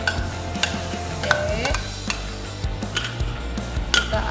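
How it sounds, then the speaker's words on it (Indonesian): Squid in a padang chili sauce is stirred in a frying pan, a utensil scraping and clacking against the pan in irregular strokes over a steady sizzle, close up and with no talk. "Kita aduk."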